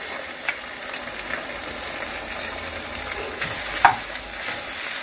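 Minced garlic and ginger, two spoonfuls, frying in a quarter cup of ghee in a pan: a steady close sizzle and crackle throughout, with a few light stirring clicks and scrapes and no talking.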